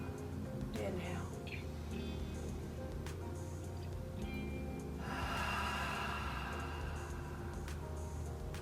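During a yoga session a person draws in a deep breath, then releases a long, audible open-mouth exhale, with an instructor's voice guiding beforehand.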